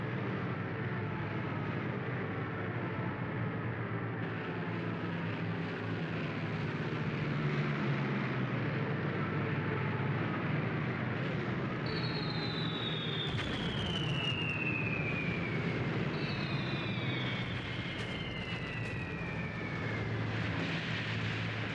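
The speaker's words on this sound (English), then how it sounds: "That's far too many planes." Several aircraft drone overhead in the WWII tank game Tank Warfare: Tunisia 1943, a loud, sustained engine roar filling the whole stretch, with falling whines as planes pass or dive in the later part.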